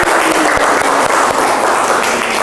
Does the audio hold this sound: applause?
yes